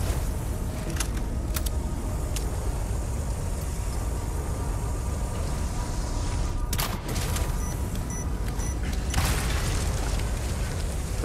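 Mine blasts in Resident Evil 4 Remake sound as a few sharp, loud bursts over a constant rumbling game background, with the strongest pops coming near the middle and toward the end.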